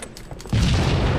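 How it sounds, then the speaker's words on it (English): Rockets explode in a first-person shooter match: a few light clicks lead into a sudden deep boom that rolls into a sustained, heavy rumble. "The rockets are gonna be up in a sec."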